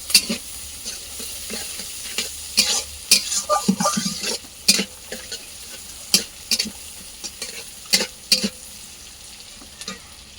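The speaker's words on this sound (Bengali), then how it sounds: "কড়াইয়ে 5 ফোঁটন আর পেঁয়াজ দিয়ে দিয়েছি, দিয়ে পেঁয়াজটা একটু ভাজা ভাজা করে নেব।" Onion and five-spice frying in a wok, a steady sizzle broken by frequent scrapes and taps of a spatula stirring, close and moderately loud, no talking.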